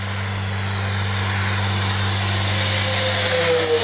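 An RC OV-10 Bronco model airplane screams past at full speed, its steady, loud propeller and motor drone holding close and strong with a slight pitch shift as it passes.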